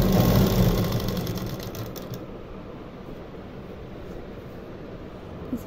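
A sewing machine runs while stitching a kurti, loudest in the first two seconds with a dense mechanical whir, then settling into a steadier, softer running hum until a small tap near the end.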